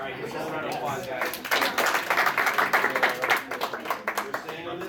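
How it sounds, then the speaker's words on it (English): Applause from an anime convention audience at a trivia game show swells up beneath a voice, with scattered clapping building to a steady patter and fading slightly toward the end. "here's a round of applause"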